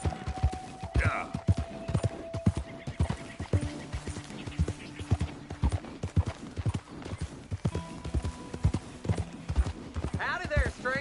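Horse hooves clip-clop in the Red Dead Redemption 2 video game, a steady close rhythm of hoofbeats with a brief whinny, running under game music and characters talking.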